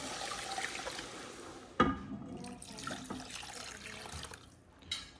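Five or six cups of water poured into a soup pot for egg drop soup, a soft splashing stream with one sharper splash near the middle and another at the end, moderately close and fairly quiet, with no talking.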